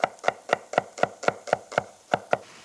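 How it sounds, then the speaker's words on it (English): A knife finely slicing an onion on a board, about ten crisp evenly spaced cuts in quick rhythm, close and clear with no talking. "let's finely slice the next one"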